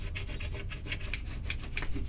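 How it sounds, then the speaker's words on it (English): A scraper rubs transfer tape firmly down onto balsa wood, giving short, close, repeated raspy scrubbing strokes in a quick uneven rhythm with no talking. "I'm going to take my scraper. Make sure it's down good."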